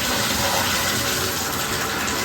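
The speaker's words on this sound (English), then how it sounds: "make sure that the warm water turns on too" Water runs steadily from a Moen shower faucet, a continuous close rushing spray that fills the whole moment without pause.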